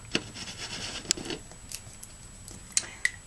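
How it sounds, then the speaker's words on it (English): Sharp scissors cutting a plastic Solo cup just below a marked line: quiet rasping and rubbing snips with a few sharper clicks, spread over a few seconds with no one talking. "I found some sharp scissors, and I cut just below the line."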